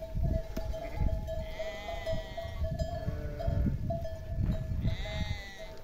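A flock of sheep being driven out to hillside pasture bleats repeatedly, several overlapping calls near and far over steady shuffling and outdoor ambience, with no speech.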